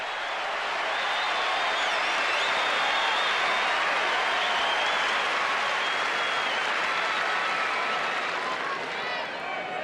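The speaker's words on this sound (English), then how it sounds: "They can hardly bear to stop cheering their heroes here now." A Wimbledon crowd at the 1982 final between Jimmy Connors and John McEnroe breaks into sustained loud applause and cheering, a dense, even roar of clapping that holds steady throughout.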